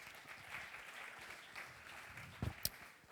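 Audience applause at the Corbeilles 2015 awards ceremony, faint, steady clapping that carries on throughout, with a couple of sharper louder knocks near the end.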